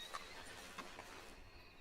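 A horse in a video game neighs, a short bright whinny near the start followed by softer snorts and faint hoof-like sounds against a quiet game background, with no talking.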